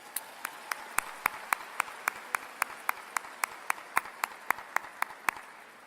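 Slow, evenly spaced single claps ring out one after another, sharp and distinct, at a university spring commencement ceremony, with no voices over them.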